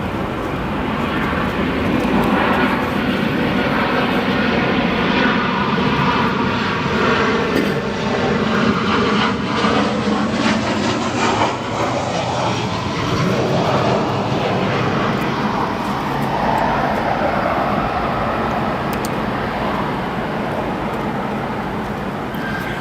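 A Southwest Boeing 737 jet at Chicago O'Hare airport, a continuous loud engine roar rising and falling in pitch as it moves past, with no voices.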